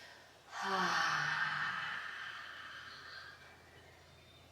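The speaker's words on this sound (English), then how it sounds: "Take an exhale out the mouth all the way." A long, slow exhale through the mouth during a yoga flow, a breathy, soft sigh that starts suddenly and fades gradually, close and quiet.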